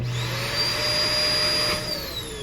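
A built-in central vacuum cleaner in an RV runs with a loud, steady whine and whoosh, its pitch holding constant and then shifting slightly near the end, with no voices.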